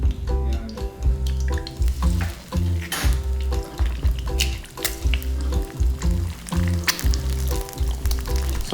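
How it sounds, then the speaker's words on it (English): Eggs frying in a pan for topping kimchi fried rice, a close, continuous crackling sizzle with bursts of spattering and some clinks of utensils. "So fry those eggs and top the fried rice with those fried eggs."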